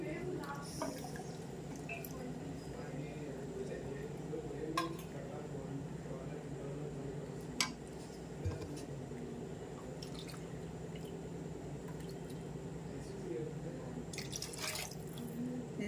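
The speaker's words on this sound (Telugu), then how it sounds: "ఈ కప్పుతో మనము 6 కప్పులు నీళ్ళు వేసేద్దాము" Water is poured cup by cup into a pressure cooker while mutton biryani is being made, giving quiet splashes and drips over about sixteen seconds while a person talks throughout.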